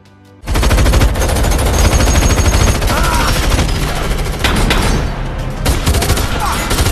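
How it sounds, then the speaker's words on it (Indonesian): Sudden, loud bursts of rapid automatic gunfire crackling almost continuously, dense and close, after a brief quiet opening. "Patrick kembali muncul menembaki mereka"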